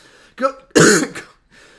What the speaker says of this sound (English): I've been coughing like crazy